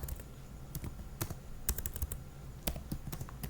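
Quiet, irregular clicks of keys on a computer keyboard as a command is typed into a network router console, a dozen or so scattered presses with no talk.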